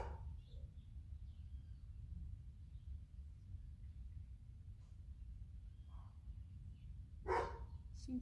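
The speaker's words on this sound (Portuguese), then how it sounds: "São os cachorros do vizinho" A neighbour's dogs bark faintly in the distance, a couple of scattered barks with one louder bark near the end, over a quiet low hum in a calm indoor yoga session.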